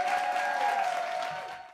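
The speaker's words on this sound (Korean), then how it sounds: "박수" A short burst of studio applause on a Korean travel broadcast, a steady wash of clapping over a sustained tone, fading out after under two seconds.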